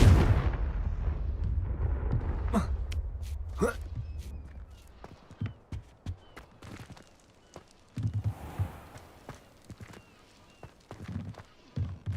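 Fire spell blasts cast in the Hogwarts Legacy video game: a series of sharp explosive bursts that boom and crackle over a low rumbling background, recurring irregularly through the battle.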